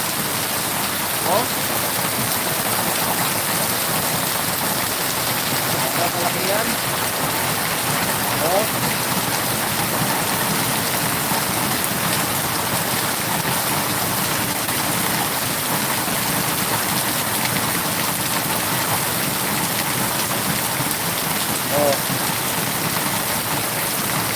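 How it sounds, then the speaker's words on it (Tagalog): Heavy rain with very large drops pours steadily and loudly in the Philippines, a dense unbroken hiss of drops hitting surfaces throughout. "lakas talaga ng buot ng ulan"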